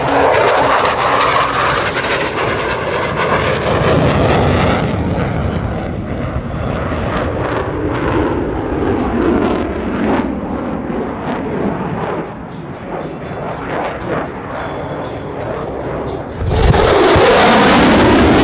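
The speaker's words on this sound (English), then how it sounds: "Watch as FEMA traces a vertical figure 8 over the demonstration area" An F-16 Viper fighter jet flies a Cuban 8 aerobatic maneuver at an airshow, its engine roaring loudly and steadily throughout, rising and falling as the jet loops, with a sharp surge of noise near the end.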